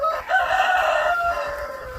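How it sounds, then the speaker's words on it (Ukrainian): Broody hens fussing in a farmyard after being lifted off their eggs, with agitated clucking and squawking calls close by, continuous and fairly loud. "Квочки он тріпало собі влаштували"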